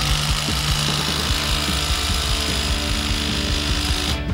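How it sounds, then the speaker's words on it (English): A Rockwell 3RILL 3-in-1 cordless tool in impact mode hammers away continuously at close range tightening a bolt into a nut, a dense rattling buzz of rapid impacts that cuts off abruptly at the end. "I'm going to tighten this bolt into this nut in the impact mode."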